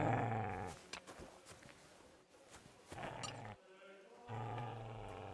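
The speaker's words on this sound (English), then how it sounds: "What's Mutt got over here? What are you growling at?" Mutt the dog growls in Kingdom Come Deliverance 2, low rumbling snarls that come in uneven bursts with quiet gaps and shuffling between them, at moderate level and with no speech.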